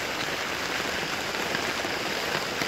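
Heavy rain pours steadily on a goat farm in the Philippines, a dense, constant hiss of drops drumming on surfaces close by, loud and unbroken throughout with no talking.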